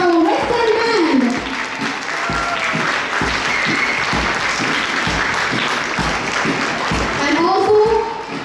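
An audience at a school sports meet applauds the Western Band with loud, dense clapping that fills the middle of the stretch. An announcer's voice is heard at the start and again as the applause fades at the end.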